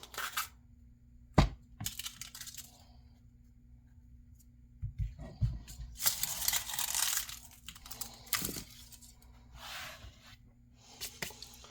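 Papery outer skin pulled off a halved onion, close crinkling and rustling in several bursts, with a sharp tap early on and quiet gaps between.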